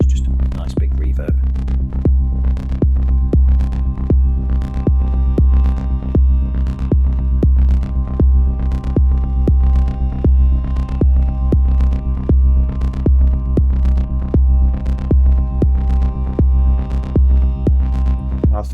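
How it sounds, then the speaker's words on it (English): Modular synth patch played through a big reverb effect, a steady droning tone with repeated pulsing notes in an even rhythm, their washed-out tails sustaining loudly throughout with no talking. "It's just a nice big reverb."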